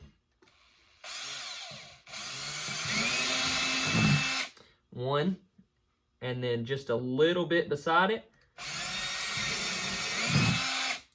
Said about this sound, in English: We're going to drill our second one.